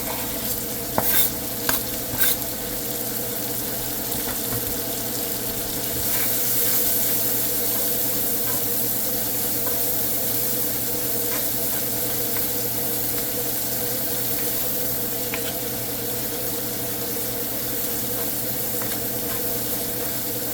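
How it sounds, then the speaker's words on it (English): Shallots sizzle steadily in a hot pan for a steak sauce, with a continuous frying hiss and occasional stirring scrapes near the start, close and even throughout with no talk. "And from here, in with the shallots."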